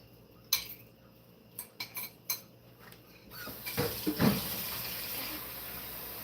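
Dishes and cutlery clink sharply at a kitchen sink, then a tap runs in a continuous rush of water under further clatter of dishes being washed.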